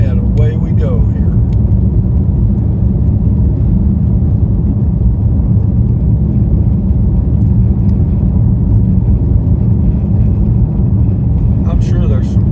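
A steady, loud low road rumble and engine drone fill the cabin of a car cruising along on a day trip, unchanging throughout, with brief faint rattles near the start and end.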